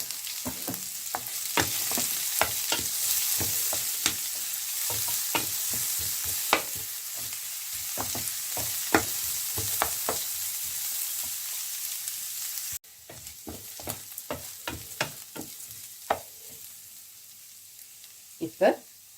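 Chopped onion and two or three dried red chillies sizzle and spit steadily in a hot oil pan, with frequent sharp crackles and occasional stirring clatter, close and continuous throughout.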